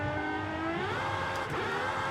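Aston Martin Valkyrie, an unmodified stock car in Forza Horizon 5, roaring as it accelerates, its engine pitch climbing steadily in a loud, continuous, close rising whine with no talk over it.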